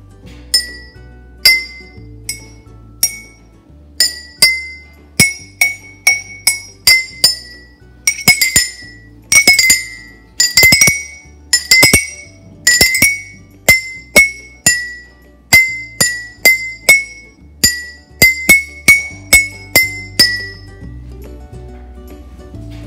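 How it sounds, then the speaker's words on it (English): A spoon taps a row of drinking glasses holding different amounts of water, producing a long run of clear, ringing clinks at varying pitches, single strikes and quick runs, close and alone without talk. "when you start tapping on each glass has a different sound or a different pitch when you tap it"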